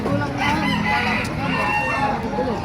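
A rooster crows at an outdoor chicken market in Baliuag, Bulacan, one loud steady call set against a busy crowd murmur and other fowl.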